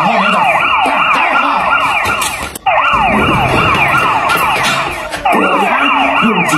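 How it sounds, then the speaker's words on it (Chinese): A police siren wails loudly and continuously, its rising and falling tone cut by a brief gap partway through before resuming at full volume. "果然用警笛声最靠谱的，这样就把他们吓跑了。"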